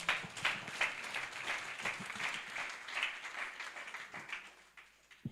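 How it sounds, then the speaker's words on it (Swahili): A church congregation applauds steadily to welcome a pastor to the front, a dense, continuous patter of many hands clapping at close range that swells and eases over about five seconds with no talk on top. "Pigie makofi mazuri"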